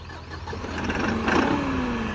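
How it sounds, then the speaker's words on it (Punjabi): A 2023 New Holland 5630 CRDI 4WD 75 hp tractor engine runs at a steady idle, giving a fairly quiet, even mechanical hum that swells slightly midway, with no one talking. "ਹੁਣ ਤੁਹਾਨੂੰ ਆਪਾਂ ਆਵਾਜ਼ ਸੁਣਾਉਂਦੇ ਟਰੈਕਟਰ ਦੀ"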